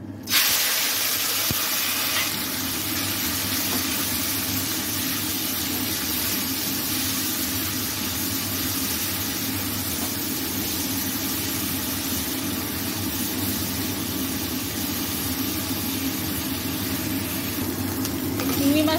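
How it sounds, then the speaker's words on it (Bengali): Prawns frying in a pan for a bottle gourd and prawn curry give a continuous, even hiss that holds steady from start to finish, close up. "আমি প্রথমে চিংড়ি মাছটা ভাজা করে নেব।"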